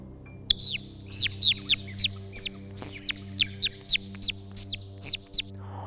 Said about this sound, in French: c'est le rossignol qui s'avance pour terminer ce tour de chant